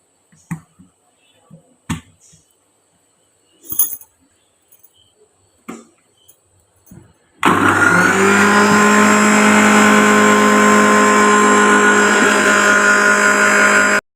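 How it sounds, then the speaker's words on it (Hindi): A mixer grinder jar grinds juice for Shahjahani phirni, its motor kicking in halfway as a loud, steady, whining roar that runs unbroken to the end. A few sparse clicks and handling knocks come before it starts. "ये देखिए अब हमने ग्राइंडर जग लिया है, इसमें हम ये रस डाल देंगे और इसे हम अच्छे तरीके से ग्राइंड कर लेंगे"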